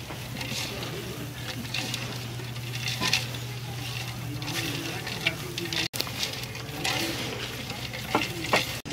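Radish pickle masala being mixed in oil: continuous scraping and stirring over a soft sizzle, with occasional clinks of utensils against the pan.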